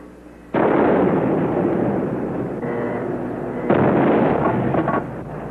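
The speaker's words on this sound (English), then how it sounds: "joined the fleet for the first time and bombarded targets a mile north of the demilitarized zone" The USS New Jersey battleship bombards shore targets near the demilitarized zone. Heavy gunfire arrives in two long, loud rumbling bursts, each sustained for a couple of seconds, with a broad roar that hangs between them and no voices.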